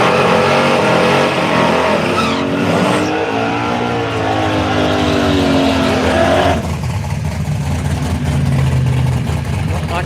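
A street machine drag racing car accelerates hard at a drag challenge event, its loud engine roar climbing in pitch through gears. It then settles into a lower rumbling drone, with faint commentary talk under the noise.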